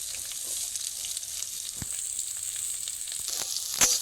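Ginger frying in a pan as chopped onion and green chili go in, giving a steady broadband sizzle with a few sharp spatters and clinks near the end, with no voices.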